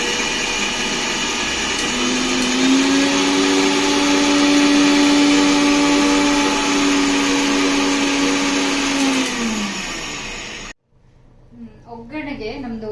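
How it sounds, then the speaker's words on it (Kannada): An electric mixer grinder whirs loudly and steadily for about ten seconds, crushing tomato, garlic and dried red chillies into a sauce, its pitch shifting slightly as it runs, then it stops abruptly and a person speaks. "ಸೊ ಇದನ್ನೊಂದ್ಸರಿ ಗ್ರೈಂಡ್ ಮಾಡ್ಕೊಂಡ್ರೆ ಸಾಸ್ ರೆಡಿ ಆಗುತ್ತೆ"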